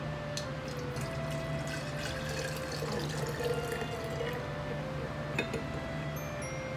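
Vinegar is poured from a measuring cup into a container, giving a steady, continuous splashing trickle at close range that runs for several seconds without talk.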